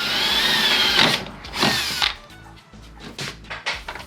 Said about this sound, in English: This is what I love doing, just drilling through my strut.